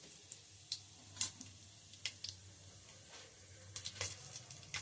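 Cinnamon, cardamom, cloves and cumin sizzle quietly in hot oil, with a soft, steady fry broken by sharp crackles and pops scattered throughout. No voices are heard.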